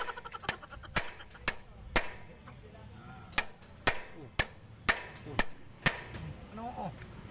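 A hammer strikes repeatedly in uneven but steady blows, each a sharp close crack over a quiet background, about a dozen hits across several seconds.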